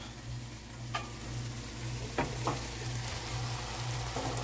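Chopped onions go into a hot pan for smothered cabbage and pork and sizzle steadily close by. The even frying hiss is broken by a few sharp ticks and pops, and no one speaks.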